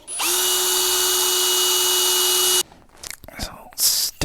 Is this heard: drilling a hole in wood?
yes